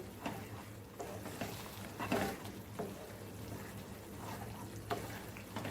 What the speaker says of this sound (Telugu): కొద్దిగా జీలకర్ర నూనె వేసుకొని ఎండిమిరకాయ వేసుకొని తిరగబాత్ చేసుకోవాలండి